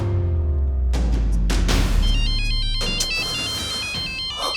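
A mobile phone ringtone plays loud and close as a repeating melodic electronic tune, heard alone without voices.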